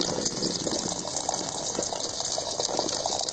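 Steady running water pours over flour dough as it is washed and kneaded by hand, a continuous close gush with no pauses or speech.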